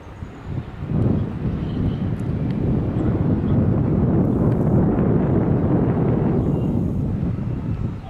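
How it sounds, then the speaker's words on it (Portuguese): A Cessna A152 Aerobat light airplane on an instructional touch-and-go takes off, its engine roar swelling to a loud, sustained drone with some wind buffeting and no talk. "Pouso seguido de decolagem, pessoal. Voo de instrução."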